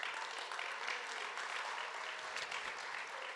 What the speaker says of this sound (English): let's give Haiti a round of applause